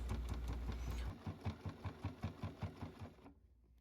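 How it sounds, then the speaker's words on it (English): A sewing machine stitching around the base seam of a fabric nature basket with a 3/8 inch seam allowance: a steady run of rapid, evenly spaced needle thumps at close range that stops abruptly near the end. "sew around the bottom with a 3/8 inch seam allowance."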